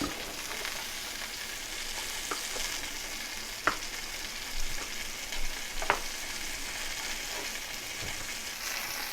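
Chorizo sausages sizzling in a cast iron pan, a steady close hiss of frying fat with a few sharp pops and crackles throughout, heard without talk.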